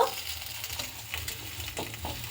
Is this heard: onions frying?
yes